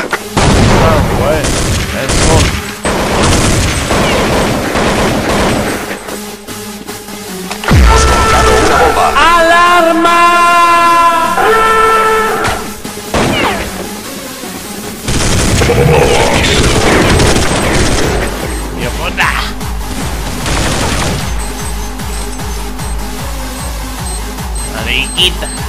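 Rapid gunfire and booming grenade explosions in the video game Counter-Strike 1.6 come in dense, continuous bursts, loud and close, with voices heard intermittently over the combat.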